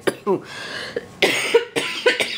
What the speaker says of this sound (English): And I'm coughing a little bit more too.